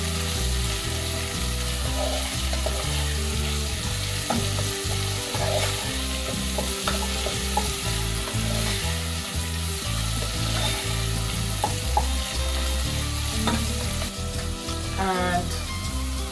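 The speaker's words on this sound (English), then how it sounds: "I'm just lightly frying the onions," Steady, dense sizzling of onions frying in a pan, with occasional soft stirring scrapes and clicks, continuous throughout with no talking.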